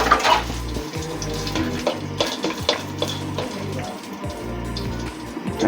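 Food frying lightly in a pan, with close stirring, soft sizzling and irregular clinks of a utensil against the metal.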